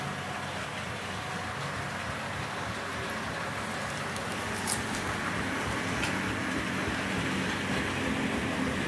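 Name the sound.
HO scale model train running on layout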